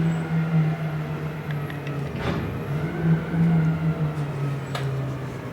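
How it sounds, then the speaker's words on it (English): Road traffic with trucks passes by, giving a steady low drone and hum broken by two louder whooshing swells of vehicles going past, with no talking. "Got a lot of traffic coming on."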